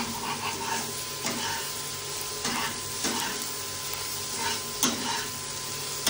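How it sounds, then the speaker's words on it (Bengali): Okra and egg stir-fried in a pan at home: a steady close sizzle and hiss with repeated scraping strokes of a spatula, a few sharper clinks standing out, no talking. "ডিম দিয়ে ভেন্ডি ভাজা।"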